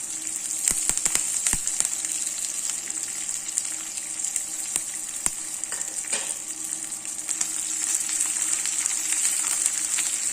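Green chili, ginger and curry leaves sautéing in a pan for Karthigai uppu appam, a soft continuous sizzle with scattered sharp pops and clicks throughout.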